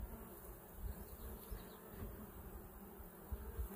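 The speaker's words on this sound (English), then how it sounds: "A lot of bees in here." Honey bees buzzing inside a hive super during honey harvesting. A dense, continuous, close-up drone stays fairly faint throughout, with slight swells in loudness and no voices.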